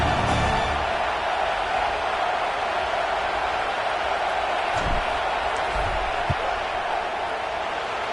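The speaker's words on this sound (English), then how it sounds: "This crowd trying to do its part to get inside the kicker's head." A football stadium crowd roars in a steady, loud wash of cheering and noise during a field goal attempt, with a few sharp knocks and bangs near the end.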